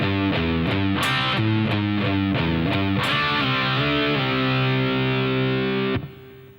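Distorted electric guitar plays the main riff of a song, a loud, chunky sequence of repeated chords stepping up and down before a final ringing note that cuts off abruptly.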